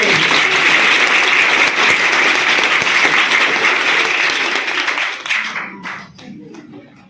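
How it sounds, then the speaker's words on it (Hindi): Loud, dense applause from an audience at a motivational seminar at an inter college fills the room steadily, then thins into scattered claps and fades near the end. "ऐसी ताली होती है"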